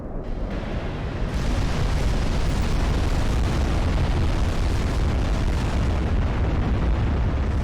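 Battleship main guns fire and shells explode in Ultimate Admiral Dreadnoughts naval combat, a huge sustained roaring blast that swells after a quieter opening and stays loud and rumbling to the end.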